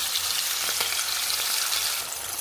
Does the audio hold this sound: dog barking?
no